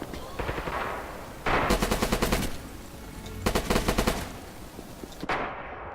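Blind-fire gunfire from the Red Orchestra 2 video game: two rapid automatic bursts of sharp, crackling shots, each lasting about a second, with quieter gaps between them.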